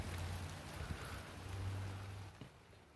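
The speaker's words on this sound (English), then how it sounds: "Let's go back out in the rain." Light rain patters softly and steadily in the background, a faint continuous hiss with a low hum underneath and no one speaking.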